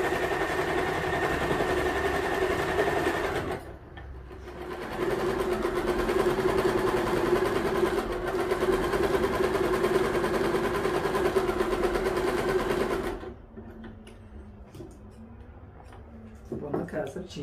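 A sewing machine stitches a tracksuit in bursts of steady, close mechanical whirring, pausing briefly around four seconds and stopping near thirteen seconds, with a voice talking quietly in the gaps.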